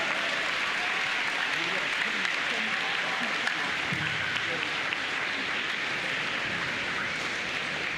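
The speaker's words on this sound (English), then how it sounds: "A round of applause, Jeff." Sustained applause from an audience at a school assembly, dense and even clapping held at a loud, steady level the whole way through, with faint voices underneath.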